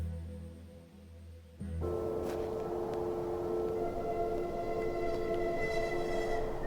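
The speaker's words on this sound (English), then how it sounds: "The train!" A train pulls in within the video game The Excavation of Hob's Barrow. After a quieter opening, a loud, steady rumble kicks in with sustained whistle-like tones ringing above it to the end.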